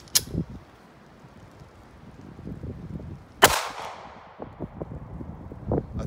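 Two sharp, loud gunshots from a .380 ACP pistol with a 2.75-inch barrel firing Carbon City 75-grain lead-free ammunition outdoors, each a sudden crack with a short ringing tail, separated by a few seconds of quiet background noise.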